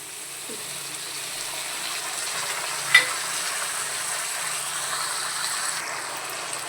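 Ginger, green chilli and turmeric paste with salt frying in oil, a steady soft sizzle with a light scrape of stirring near the middle, for a Bangladeshi-style dish of hilsa fish head with taro greens.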